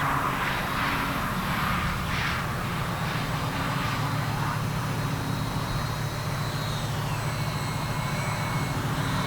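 A ParkZone Sport Cub S2 RC model airplane flies low over the ground, giving a steady, continuous motor whine and a broad rushing noise that hold at an even, moderately loud level throughout.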